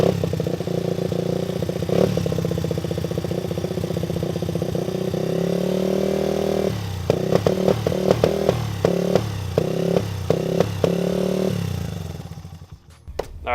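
A small motocross dirt bike engine with a carburetor needing work runs roughly nearby, holding an uneven idle before stumbling through a series of sputtering, misfiring revs and cutting out near the end.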